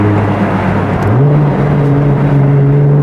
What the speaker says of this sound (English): Oh, those downshifts sound so good.